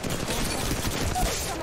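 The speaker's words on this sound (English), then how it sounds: "I'm spotted, taking fire." Gunfire rattles in Apex Legends Mobile, a rapid fusillade of dense, overlapping shots that keep up without a break through the short burst.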